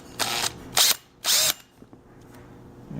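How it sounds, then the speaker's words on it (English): A power drill fitted with a hole saw cuts through a panel while installing an aftermarket speaker in a 2013-2020 Ford Focus, in three short loud bursts of whining drilling separated by pauses, followed by quiet clicks. "Make sure you're good before you drill all the way through."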